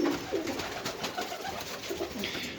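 Pigeons nesting inside metal lockers give low, soft coos in short repeated phrases over a steady background hiss, close and fairly quiet.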